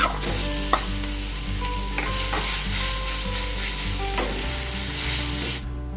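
Chicken sizzles and is stirred in a hot pan as filling for momos, giving a loud, steady frying hiss with occasional scrapes of the spatula, close and without any voices.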